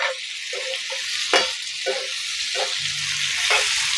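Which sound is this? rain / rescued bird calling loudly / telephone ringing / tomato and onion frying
tomato and onion frying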